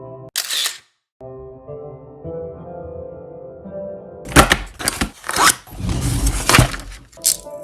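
A DSLR camera shutter firing at framed pictures laid out on a floor, a sharp mechanical click near the start followed later by a cluster of louder clacks and thunks up close.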